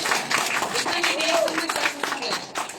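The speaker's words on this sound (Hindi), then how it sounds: "जोरदार तालियां" An audience bursts into loud, dense applause at a business meeting in Dubai, with many hands clapping continuously for nearly three seconds amid crowd murmur.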